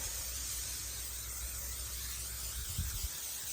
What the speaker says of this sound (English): use some cooking spray or some Vaseline and spray the back side of your leaf